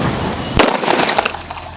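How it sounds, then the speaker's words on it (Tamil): A money bank firecracker bursts among Diwali fireworks with one sharp loud crack, followed by a second of crackling, sputtering pops and hiss that fade out, heard close up. "மணி பேங்க் இப்போ வெடிக்க போகிறோம்."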